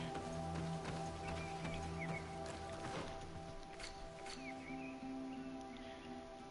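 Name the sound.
horses' hooves in the video game Greedfall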